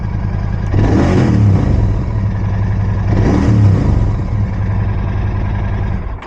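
A Royal Enfield Continental GT 650 motorcycle revs twice from idle, each blip of the throttle rising into a loud exhaust roar and falling back to a rumbling idle, heard up close with no voices.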